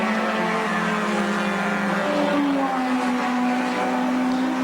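A Nissan HR31 GTS-R, a 450-horsepower rear-wheel-drive race car with a 5-speed gearbox, racing at Bathurst in 1992, its engine droning loud and continuous with rising and falling pitch as it works through the gears.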